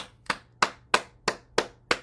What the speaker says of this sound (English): we're going to stimulate different meridians by different things like clapping and cupping and tapping